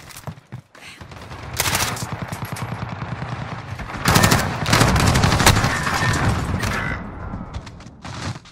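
Rapid bursts of automatic gunfire from a video game shooter, dense and loud, come in two long volleys with short gaps and scattered single shots near the end.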